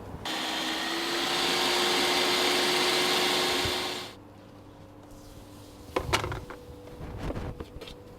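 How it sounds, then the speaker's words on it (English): A kitchen blender whirs loudly and steadily, blending boiled food into roti dough, then cuts off abruptly, followed by clatter and knocking of the jar and lid. "She's going to blend it without adding anything, no water, no oil, no nothing, and that will become the dough for your roti"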